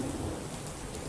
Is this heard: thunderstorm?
yes